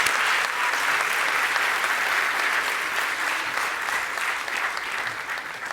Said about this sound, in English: Please, a big applause to them